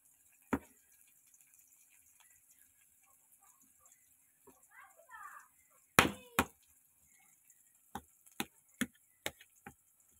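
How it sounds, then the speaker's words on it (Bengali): A ladle mashes boiled potato in a pot with sparse, sharp knocks and taps, quiet between strikes, then a quicker run of several distinct knocks toward the end, with a faint murmur in the middle. "এই যে পুরো হাতার সাহায্যে ম্যাশ করে নিচ্ছি"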